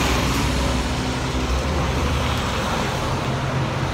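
A very noisy truck rolls along a road nearby, its broad engine and tire roar filling the scene continuously and fading slightly as it moves on, with steady traffic noise underneath.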